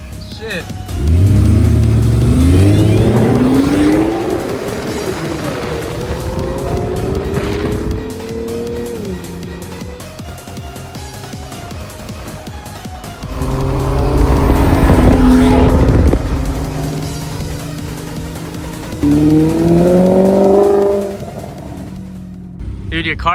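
Several BMW cars accelerate hard and race past, engines revving and rising in pitch in loud bursts with a tire squeal, separated by quieter stretches.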